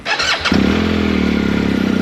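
A motorcycle engine cranks and catches, then settles into a loud, close, steady idle with a rapid pulsing throb.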